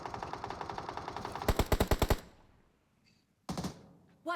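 Automatic gunfire in an online shooter game rattles in rapid bursts, a long run of close shots, then a louder burst, a pause, and two more short volleys.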